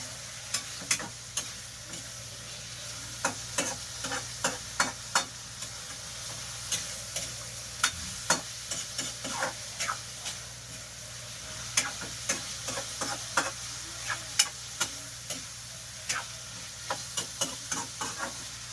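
Mung beans sauté in a pan, a low steady sizzle broken by frequent sharp scraping ticks of a utensil stirring, close and fairly quiet with no talk.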